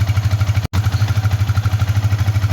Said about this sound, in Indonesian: dengar suara motor kan? Itu motor siapa yang nyalain?